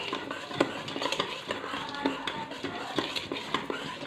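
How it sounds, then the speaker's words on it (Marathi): Dhokla batter being whisked by hand in one direction in a bowl, with a steady swishing stir and repeated light clinks of the whisk or spoon against the rim, close up, with no talk. "आपल्याला हे एकदा परत एकाच डायरेक्शनमध्ये फिरून घ्यायचं आहे, म्हणजे फेटून घ्यायचं आहे"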